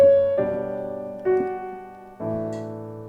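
Solo piano plays a bar of a song in its plain original voicing: four sustained chords struck one after another, each ringing and slowly decaying, close and clear.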